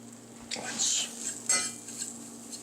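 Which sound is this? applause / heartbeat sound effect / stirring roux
stirring roux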